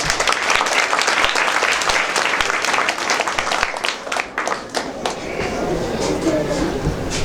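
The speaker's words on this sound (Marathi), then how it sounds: "मी तुम्हाला सर्वांना एकदा त्यांच्यासाठी टाळ्या वाजव म्हणून सांगतो" A crowd claps steadily in sustained applause at a high school's annual gathering, dense and lively, fading slightly toward the end.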